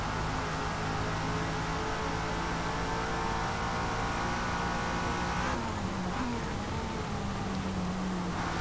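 A 2002 Lotus Esprit V8 roars at high revs on the Le Mans circuit in the Forza Motorsport racing game, a steady loud whine that drops in pitch briefly as the car shifts and carries on.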